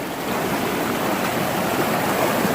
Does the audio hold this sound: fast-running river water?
yes